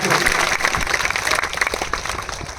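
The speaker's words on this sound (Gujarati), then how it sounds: "એકવાર જોરદાર તાળીઓ થઈ જાય" A crowd at a farmers' rally applauds loudly, with dense continuous clapping that fades slightly toward the end.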